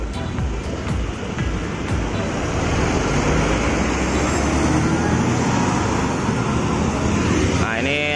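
A GTS jet bus pulls away at a bus terminal bound for Bondowoso, its engine a steady rumble under continuous roadside traffic noise for about eight seconds, with a brief rising whine near the end.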